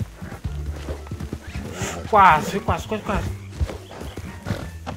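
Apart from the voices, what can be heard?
horse in the video game Red Dead Redemption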